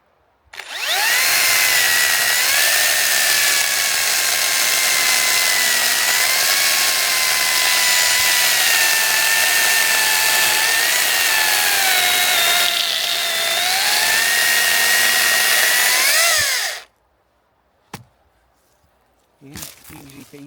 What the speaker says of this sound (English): Round 4, chainsaw.